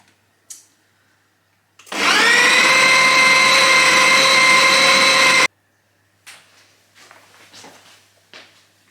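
Food processor whirring as it mixes pastry dough, a loud steady motor whine that starts abruptly and runs about three and a half seconds before cutting off, followed by faint clattering.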